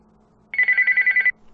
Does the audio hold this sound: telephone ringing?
yes